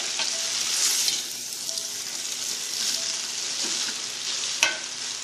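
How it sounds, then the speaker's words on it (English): Pasta and broccoli are tossed in melted butter in a pan, giving a constant close sizzle with soft stirring scrapes and one sharp clink near the end. "Put this right back in the melted butter. We're going to toss it a bit to coat it."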